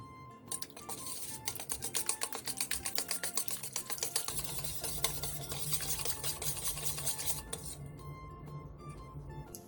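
Batter of water, curry powder, frying mix, salt, minced garlic and two eggs being stirred in a bowl: rapid rhythmic clicking and scraping of a utensil against the bowl, close and continuous, with no talking.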